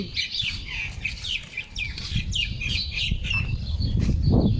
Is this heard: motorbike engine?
no